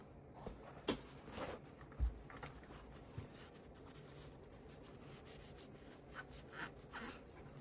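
Soft rubbing and wiping of a paper towel across a dry-erase surface to remove marker, with scattered brief scrapes and thumps over quiet room tone.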